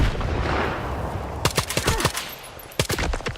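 A frag grenade goes off and gunfire follows in a S.T.A.L.K.E.R. 2 firefight: a low rumbling boom at first, then loud, sharp shots in two clustered bursts, with no voices.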